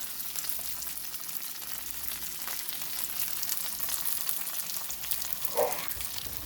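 A breakfast sandwich fries in butter and flour in a pan, giving a steady soft sizzle and crackle close by with one brief louder pop near the end.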